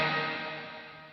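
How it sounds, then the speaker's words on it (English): A guitar chord rings out through a Boss Katana Artist MKII head amp with a plate reverb effect, starting full and decaying smoothly into a lingering reverb tail, with no voices. "Got a cool plate reverb on here too."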